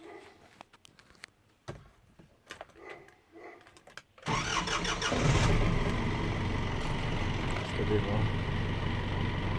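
Clicks and short knocks, then an Isuzu NPR 400 diesel engine, rebuilt after running on two cylinders, cranks and catches. It settles into a loud, steady, close idle with a rough rattle.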